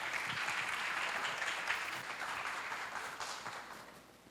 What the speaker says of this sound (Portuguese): Palmas, gente, por favor.